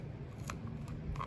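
Scissors cut through thick leather for a DIY pocket planner, giving a few short, close crisp snips over a steady low background hum.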